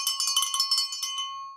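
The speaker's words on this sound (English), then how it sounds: "ring that bell" A bright metallic bell sound effect rings in a quick cluster of repeated strikes, then a final tone fades out cleanly with nothing behind it.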